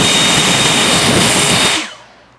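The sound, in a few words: Ego 765CFM battery blower running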